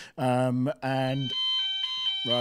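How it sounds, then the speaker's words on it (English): A fire alarm sounds during a radio interview at an event, steady high electronic tones running under and between close speech. "That's the fire alarm"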